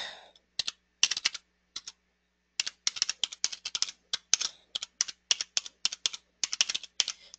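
Keys clatter on a computer keyboard as a contact name and email address are typed, close and crisp in quick irregular bursts with short pauses, with no talk.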